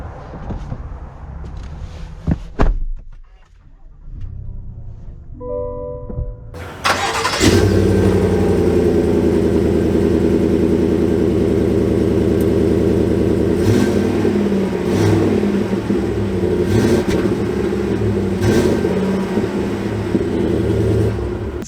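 A GMC Yukon Denali Ultimate XL comes to life after a few clicks: the starter cranks and the engine catches. It settles into a loud, steady rumble as the big SUV pulls away.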